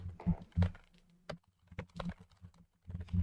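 Fingers tap a computer keyboard in quick, irregular bursts of close, crisp clicks, with brief pauses and a faint low murmur underneath.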